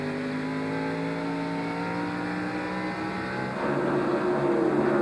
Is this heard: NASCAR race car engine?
yes